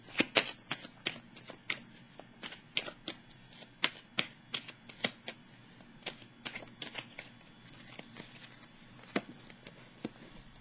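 Tarot cards being shuffled by hand, a quick run of crisp riffling snaps and flicks repeating steadily throughout, close and fairly quiet, with no talking.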